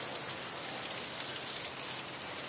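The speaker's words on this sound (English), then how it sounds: "You just sit and enjoy the rain." Steady rain pours down during a thunderstorm, a dense even hiss of drops striking surfaces, fairly faint and unbroken, with no thunder or voices.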